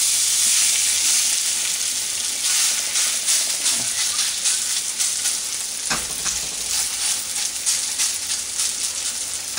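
Potato hash browns fry in a pan with a loud, continuous sizzle and hiss, close up, with a couple of brief soft knocks and scrapes partway through.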